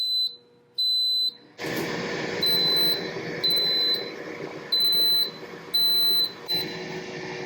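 An Instant Pot air fryer lid gives a string of sharp, high electronic beeps in short repeated bursts at the 10-minute mark of roasting potatoes at 380 degrees, over a steady whirring fan hum that starts partway through.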